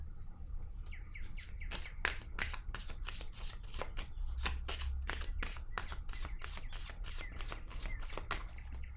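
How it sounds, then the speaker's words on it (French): Tarot cards are laid down and handled on a table in a steady run of soft slaps and rustles, fairly close, over a low background hum with no talk. "Je vais déposer une autre carte ici."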